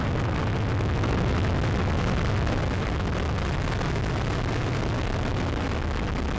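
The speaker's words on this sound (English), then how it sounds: "We have RD-180 ignition, and we have liftoff of the United Launch Alliance Atlas V rocket" Atlas V rocket with RD-180 engine igniting and lifting off, a continuous broadband roar that is loud and steady throughout with no speech over it.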